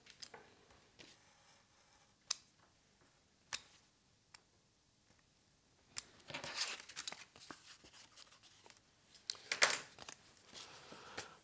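Card being cut to make a slot for a pop-up mechanism, sparse quiet snips and clicks early on, then a busier stretch of scraping and cutting noises, close and soft.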